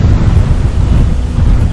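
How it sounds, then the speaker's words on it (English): Wind blows hard into the microphone outdoors in a garden with arch trellises, making a steady, close, low rumbling buffet that runs the whole time with no voices. "A little windy out here, but hopefully it works out."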